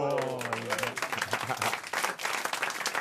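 Studio audience applause on a French comedy radio show, a brief, uneven patter of clapping that starts under a voice and carries on for a few seconds.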